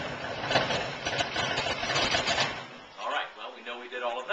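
A motorcycle engine, freshly fitted with a new air filter and spark plugs, fires up and runs with a rough steady rumble, close and loud, settling into a lower idle near the end.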